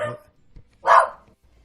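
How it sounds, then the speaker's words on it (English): A dog barks outdoors: a brief sound at the start, then one clear, fairly loud bark after a short pause, with quiet background between. "I go outside now because my dog is barking and the air conditioner is on."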